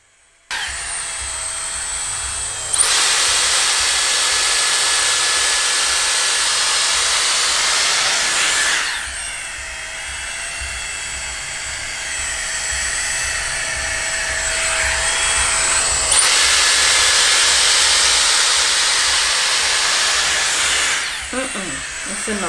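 A Dyson Airstrait hair straightener blasts hot air in two long, loud bursts of steady broadband whooshing with a faint whine, separated by a quieter stretch of lower airflow.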